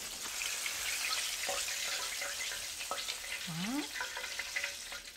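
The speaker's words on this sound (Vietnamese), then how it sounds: "bây giờ mình chỉ chiên cho nó vàng thôi nha các bạn" Vietnamese roast pork skin fries in a pan with a steady, dense crackling sizzle, close and continuous, broken by a few sharper pops and a brief squeak of the pan or utensil.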